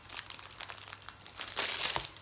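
A clear plastic packaging bag crinkles in a series of quiet, close rustles, swelling into a louder, longer crackle near the end.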